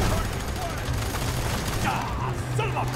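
Gunfire in the co-op shooter video game FEAR 3, with rapid, continuous automatic shots and mechanical clatter under a voice that talks throughout.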